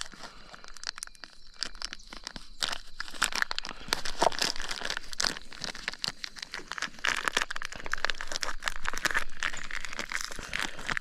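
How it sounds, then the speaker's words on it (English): A very dull, unsharpened knife saws through fishing bait, giving dense, close crinkling, tearing and crunching that runs steadily with uneven bursts throughout. "I'll get one out there and try to catch me some bait. So just so you can see what I'm doing, I've angled my camera down so you can see me cutting this open"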